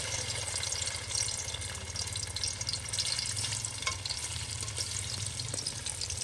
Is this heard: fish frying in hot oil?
yes